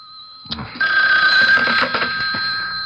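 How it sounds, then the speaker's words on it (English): A telephone bell rings in a radio drama, a steady electric trill that starts suddenly and continues for a couple of seconds, close and loud, with no voices over it. "Bobby, darling, you'd better answer the phone."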